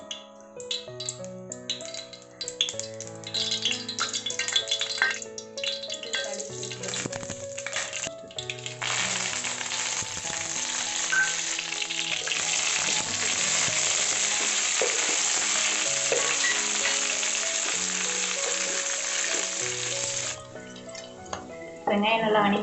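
Bitter gourd sautéing in oil crackles and hisses in a dense, loud, continuous sizzle that builds and holds for a long stretch, with talk and tonal sounds over it at the start and end.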